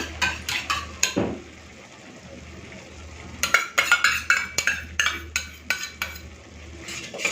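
A utensil stirs whisked sour yogurt in a cooking pan over low gas, making rhythmic scraping strokes and sharp metallic clinks against the pan, close and fairly loud.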